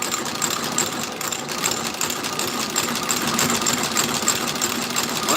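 A sewing machine stitches new soles onto boots, giving a steady, fast mechanical chatter that stays close and even from start to finish, with no talking heard.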